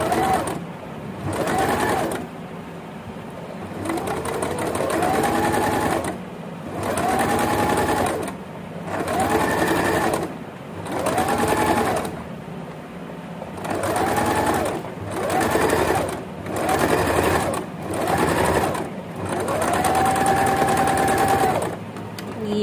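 A Singer sewing machine fitted with a narrow rolled hem foot stitches in repeated close bursts of rapid mechanical whirring, each a couple of seconds long and separated by brief pauses.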